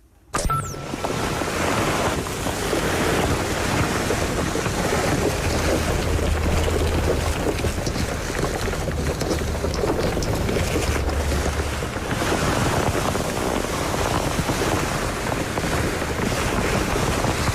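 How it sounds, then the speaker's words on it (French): A waterproof raincoat being pulled on and unfolded for ASMR, a steady dense rustle and crinkle of stiff fabric that carries on without a break and sits close and fairly loud, with no voices. "le son qu'on est en train d'entendre, c'est un ciré qu'on enfile et qu'on déplie"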